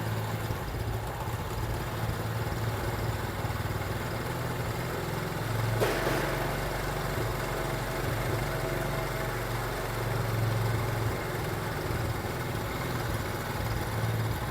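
A 70cc motorcycle engine idles steadily during a carburetor mixture adjustment, a continuous low hum with a slight dip in speed, with a brief sharp click partway through.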